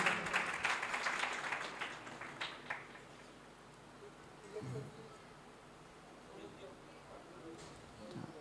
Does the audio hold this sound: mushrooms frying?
no